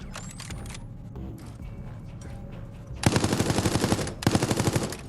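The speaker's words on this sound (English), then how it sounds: "Use the machine gun skill card to defeat the survivor." A machine gun fires in Resident Evil 3 Resistance. Loud, rapid automatic bursts ring out, one long burst and then a shorter second one, over quieter game ambience with some faint earlier clatter.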